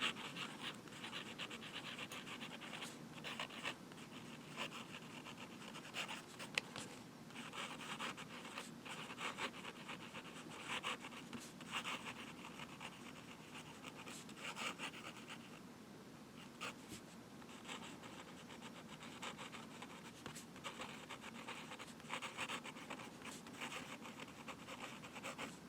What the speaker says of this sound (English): we'll just do a little swirls here and some fast writing